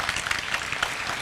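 Applause from an audience at an entrepreneurship talk in Senegal: a dense, steady patter of many hands clapping together, moderately loud and continuous through the short moment.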